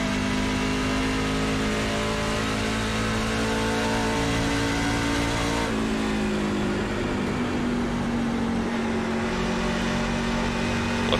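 A NASCAR truck engine in the iRacing sim at Nashville Superspeedway, droning at sustained high revs, then shifting pitch slightly midway and holding a steady, loud whine.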